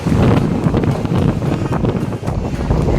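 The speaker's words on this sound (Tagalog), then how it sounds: "Grabe ang hangin." Strong wind near the Hakone ropeway by Lake Ashi, Japan, buffets the microphone with a loud, continuous roar and gusty bursts.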